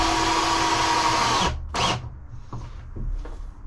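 A power drill drives a screw into pre-drilled pallet wood for a homemade bar, a loud steady whir lasting about a second and a half, then stopping abruptly, followed by a brief burst and faint handling noises.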